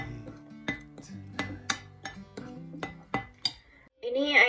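Tempeh batter being stirred with a little water in a bowl, a series of sharp utensil clinks and scrapes against the dish, ending in a brief burst of louder noise.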